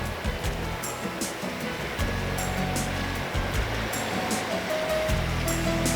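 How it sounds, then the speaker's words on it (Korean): Sea waves washing continuously onto the shore along a coastal walking trail, a steady rushing surf with periodic swells, heard alone without talk. "이 끊임없이 귀에 들려오는 이 파도 소리가 너무 예뻐요."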